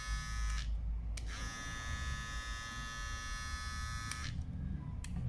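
An American Barber ZEROGAP cordless clipper, plugged in, hums steadily with a bright motor whine, briefly cutting out and restarting, close and loud throughout.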